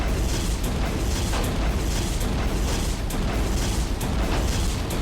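Wire-guided missiles detonating in the Roblox game War Tycoon, a dense, continuous rumble of booms and blasts with repeated bursts layered on top and no quiet between them.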